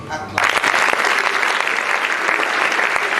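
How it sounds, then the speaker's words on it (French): A church congregation bursts into loud applause after a short quiet start, a dense, steady clapping that fills the space for about three seconds with some voices mixed in. "nous pouvons acclamer"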